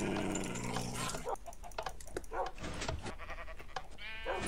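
Blocky video-game sheep in Minecraft bleat repeatedly, several loud nasal baas stacked over bright game music and effects, filling the scene continuously.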